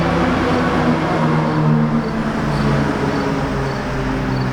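BMW E92 M3 with a custom exhaust, a steady low rumble of exhaust drone under a constant engine hum, close and fairly loud with no talking.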